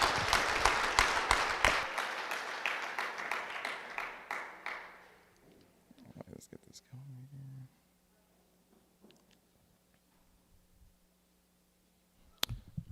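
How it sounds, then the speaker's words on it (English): Brief applause from a conference audience at a security talk, a burst of clapping for the first few seconds that thins and fades out, followed by quiet room noise and a few scattered knocks. "let's give a round of applause for Richie."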